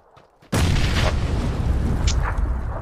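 Grenade explosion in the video game H1Z1, a sudden loud blast after quiet, followed by a sustained rumbling roar that fades slowly.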